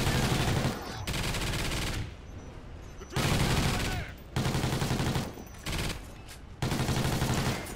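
A sentry turret in Call of Duty Ghosts Extinction fires loud, sustained automatic bursts, four or five long volleys separated by short pauses.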